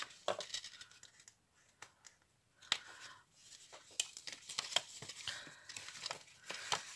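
A scalpel cuts into paper to free a small staple during a scrapbooking exchange. The cuts are faint, crisp scratches and snips that come in uneven clusters with quiet pauses, heard close and with no voices.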